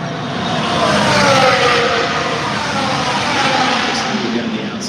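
Formula 1 cars racing at the Las Vegas Grand Prix, a dense continuous engine roar blended with crowd and broadcast ambience, steady and fairly loud, with no clear single pass-by.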